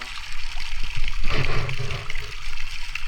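Water spraying and splashing from fountains at a water park, a steady loud rush with a brief surging splash in the middle.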